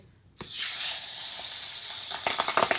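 Pabda fish drops into hot mustard oil and starts a loud, steady sizzle, with crackling pops building toward the end.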